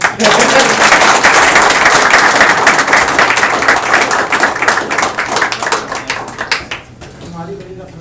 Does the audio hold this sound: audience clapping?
yes